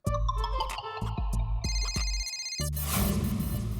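A telephone rings on a TV comedy set at night, a bright electronic ringtone repeating in short bursts for several seconds, loud and close, with a burst of background music or noise near the end.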